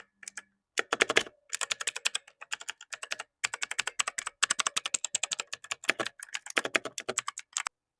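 Typing on a cheap wireless keyboard with blue mechanical switches, sharp clicky keystrokes in quick bursts with brief pauses, close and alone with no talk.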